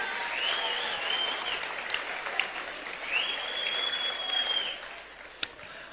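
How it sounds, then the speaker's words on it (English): Sustained audience applause from a seated crowd at a live speaking event, steady clapping with a few whistles and cheers rising over it, fairly loud and continuous for about six seconds. "Give them a round of applause."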